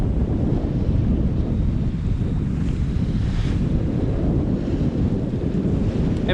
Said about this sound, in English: It's, yeah, it's got really windy, isn't it?